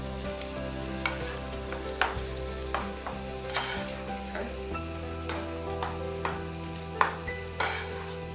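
A spoon stirs thick curry sauce for curried pork tenderloin in apple cider in a hot pan. Steady close sizzling runs throughout, broken by regular scraping strokes against the pan.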